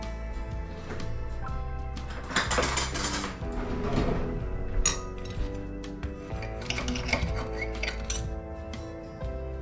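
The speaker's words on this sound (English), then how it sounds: "Now to remove them from the baking sheet and onto the plates." Baked tortillas are moved from a baking sheet onto plates with scattered clinks and scrapes of metal pan and utensils against dishware, some louder clatters in the middle, against a soft musical background.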